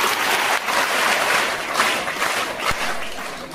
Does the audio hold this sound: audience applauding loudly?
yes